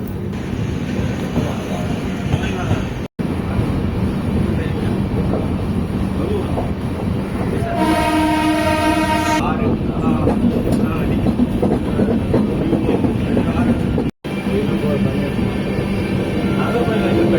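A passenger train rumbles and rattles steadily along the rails while a voice talks over it. Partway through, a bright tonal horn or brake sound briefly rises above the running noise.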